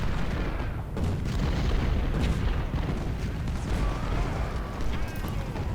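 Whitworth cannon artillery fire in the Civil War strategy game Ultimate General: Civil War, a dense rumbling stream of distant booms and blasts across the battlefield, continuous and moderately loud.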